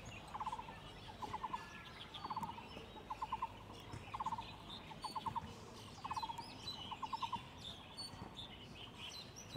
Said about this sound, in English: Trying to find this bird up here in the tree.